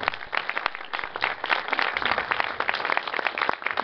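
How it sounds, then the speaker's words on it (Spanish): An audience claps to welcome a historian speaker at a conference on the springs and urban spaces of Xalapa, producing scattered, fairly close applause that rises and dips across a few seconds. "un aplauso para él, por favor."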